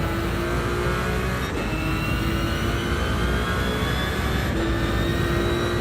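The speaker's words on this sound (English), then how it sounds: "listen to the engine roaring as we accelerate" A Cobra car's engine roars steadily and loudly in a racing video game at Sardegna Road Track B, droning continuously as it accelerates, with no talk over it.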